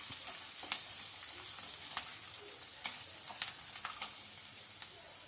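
Long-cut green chillies fry in oil in a pan for village-style kaadu nellikayi chithranna, a steady close sizzle broken by light stirring clicks, with no talk.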